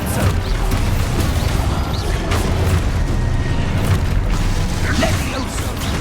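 Expulso explosion spells fire in Hogwarts Legacy, a dense, loud rumble of blasts and crashing debris running continuously, with a voice calling out spell names over it.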